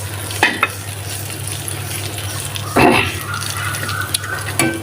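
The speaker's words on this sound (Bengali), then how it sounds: "আমি আলু ভাজির জন্য যে কড়াইতে মাছ ফ্রাই করছি ওইটাতে কয়েকটা শুকনো মরিচ দিয়ে দিচ্ছি" Dried red chilies sizzle in oil in a wok that was just used for frying fish, with a steady close frying hiss, a few stirring scrapes and clinks, and one louder burst of sizzle partway through.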